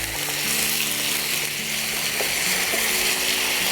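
A mushroom mixture with potatoes fries in a pan, giving a loud, continuous close-up sizzle with faint stirring scrapes underneath, steady throughout and without voices.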